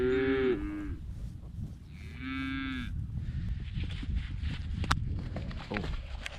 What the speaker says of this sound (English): the 10 cows assembled